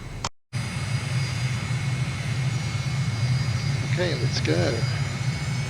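A MiG jet in Microsoft Flight Simulator spools up for takeoff with a steady low engine roar that fills the clip, and a voice speaks briefly near the end.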